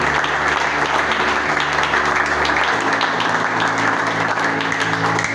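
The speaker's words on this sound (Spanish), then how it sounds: "Aplauda fuerte." A church congregation applauds loudly, a dense sustained wash of clapping from many hands with a held musical tone underneath at first, no pauses.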